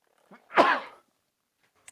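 A single sharp sneeze, close and loud, preceded by a brief quick intake of breath, then silence.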